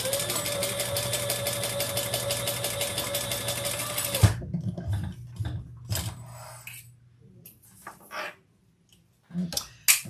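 A sewing machine stitches fabric for a bag in a steady, rapid, close run for about four seconds, then stops. Scattered handling clicks and small knocks follow.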